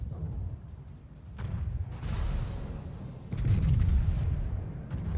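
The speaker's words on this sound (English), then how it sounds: "another salvo away" Naval guns firing a salvo in the game World of Warships, deep rumbling booms that swell and roll, the heaviest blast near the end, dominating the low end with no talk.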